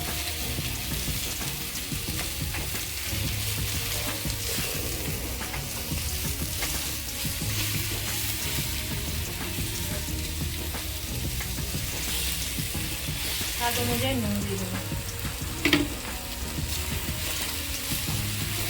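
Ground turmeric, chili, coriander and cumin frying in a pan for palak chingri, a loud, continuous sizzle with stirring throughout and a brief voice speaking over it.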